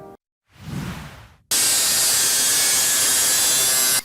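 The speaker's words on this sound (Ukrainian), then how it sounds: "болгаркою розрізає два балони з-під фреону" A brief rasping scrape, then a loud, steady high-pitched whine of an angle grinder cutting through metal freon gas cylinders, running continuously close by.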